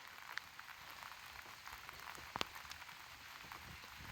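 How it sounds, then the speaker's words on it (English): Light rain falling outside a van parked in a forest during a solo camping trip, a soft steady patter with a few sharper drops striking the roof or surfaces nearby, quiet and continuous with no talk. "it's been raining for, oh, maybe like 45 minutes or so"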